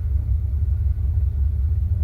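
A 1975 Cadillac Fleetwood engine idles with its battery disconnected, a loud, steady low rumble that holds close and even throughout, with no voices.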